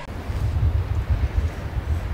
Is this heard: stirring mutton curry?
no